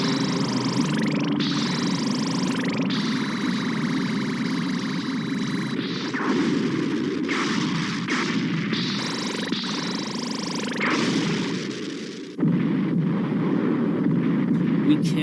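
Cartoon spaceships fire weapons in a space battle: repeated zapping laser blasts and rumbling booms play in bursts over a droning background, with a sharp burst of explosive noise late on.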